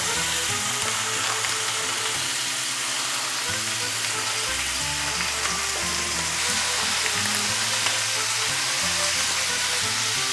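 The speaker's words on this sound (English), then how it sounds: "we're gonna go ahead and cook our bacon, which is gonna be one of our toppings on the pizza." Bacon sizzles and fries steadily in a preheated cast iron skillet, a dense, continuous crackle with a low rumble from the stove beneath, no voices.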